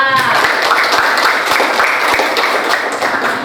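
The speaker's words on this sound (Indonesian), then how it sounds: "Tepuk tangan untuk Zofan." A class gives a round of applause for a student in a lesson session, close, uneven clapping with distinct taps standing out, briefly overlapping a voice at the start.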